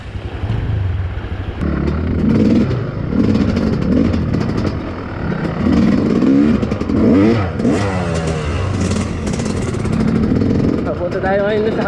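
Honda CRF dirt bikes on an enduro trail approaching a river crossing in Divilacan, Isabela, a steady close engine drone with rising and falling revs throughout, mixed with a person talking over it.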